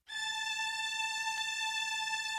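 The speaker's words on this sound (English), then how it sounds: "And on top of that, a string." A steady sustained string layer in a slap house / Brazilian bass arrangement, holding one bright tonal chord with faint shimmering swells, moderately loud and alone for a couple of seconds.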